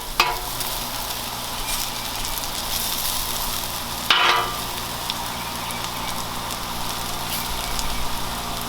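A breakfast scramble sears on a hot Blackstone griddle with a dense, continuous sizzle and occasional spatula scrapes, one louder scrape and crackle standing out midway.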